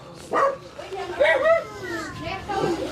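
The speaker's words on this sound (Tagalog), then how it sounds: "Medyo maingay nga lang sa aso." Dogs bark and yip in the background beneath children's voices and nearby talk, with a few sharp barks standing out.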